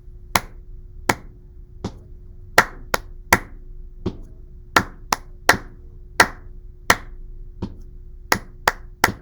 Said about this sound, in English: I'm going to clap the rhythm this time